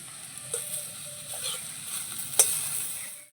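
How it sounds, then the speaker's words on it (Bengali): A fish head frying in a pan with a spoonful of ghee just added, making a quiet, steady sizzle with light stirring scrapes and a single clear metallic clink partway through. "মুড়োটা একটু ভাজা ভাজা হয়ে গেছে এবারে এর মধ্যে দিয়ে দেবো এক চামচ মতন ঘি"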